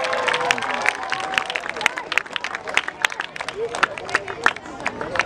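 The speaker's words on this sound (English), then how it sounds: "Can we have a loud round of applause for Kuldeep from Kenkre here?" Audience at a youth football league award ceremony applauds and cheers an award winner on stage, a dense, steady wash of clapping with scattered voices and crowd chatter throughout.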